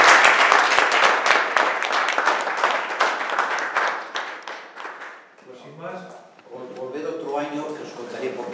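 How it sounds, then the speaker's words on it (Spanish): Audience applause after a debate on economic efficiency and the common good, dense clapping that fades out over several seconds before voices take over. "yo os pediría un aplauso por Antonio y agradecer"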